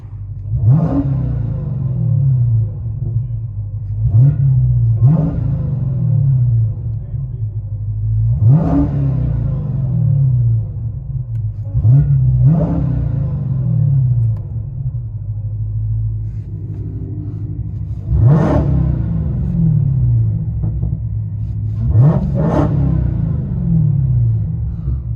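Dodge Challenger Hellcat with a supercharged Hemi V8, heard from inside the car, revving in a series of sharp, loud bursts that rise and fall over a constant deep rumble, spaced every few seconds.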